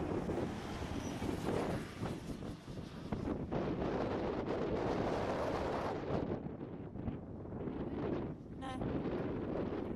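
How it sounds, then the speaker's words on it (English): A strong gale sweeps across the sandy desert near Big Red on the road to Birdsville, loud buffeting gusts roaring continuously and battering the microphone, easing briefly then surging back. "It was blowing a gale."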